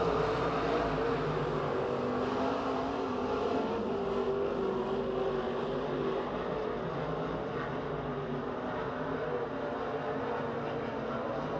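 Race cars roar through turn 4 on the final lap of a feature event at Pennsylvania Motor Speedway near Pittsburgh, a steady, continuous engine drone at moderate distance with no talk over it.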